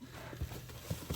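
A racehorse gallops over a short stretch outdoors in Nookat, Kyrgyzstan, where it is offered for sale; three soft, dull hoof thuds sound faintly over a low background hum.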